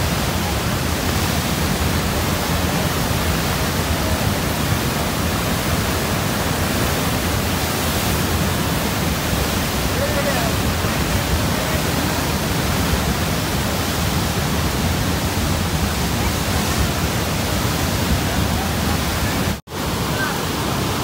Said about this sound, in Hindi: अभी देख रहे हो पानी कितना ज़्यादा बढ़ चुका है और बढ़ता ही जा रहा है